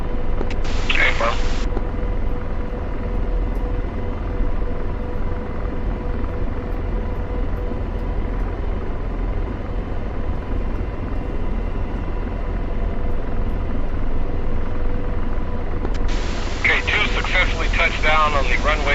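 An AH-64D Apache helicopter hover taxis in DCS World, a steady loud rotor and turbine drone held throughout, with radio voices talking over it at the start and end.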